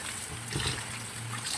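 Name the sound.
washing basale greens under running water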